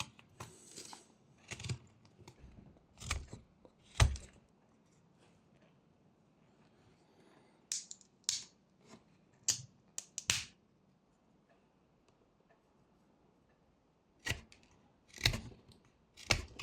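A knife carves the tail of a wooden duck in short, sharp scraping cuts that come in scattered bursts with long quiet pauses between, close and fairly soft.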